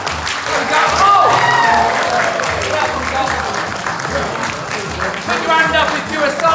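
Audience applause at a gaming expo stage show, a burst of clapping and cheering under loud voices and laughter, with someone talking over it.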